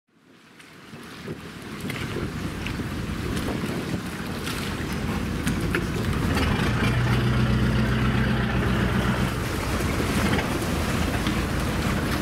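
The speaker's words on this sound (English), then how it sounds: "This boat crosses from Zamami Port to Aka Port." A passenger boat crossing from Zamami Port to Aka Port in Okinawa, its engine a steady low drone under rushing wind and splashing water that builds from quiet to a loud, constant roar.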